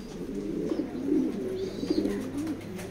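A racing Maxi pigeon coos close by in soft, low, rolling phrases, several calls in a row over a few seconds, with no one speaking.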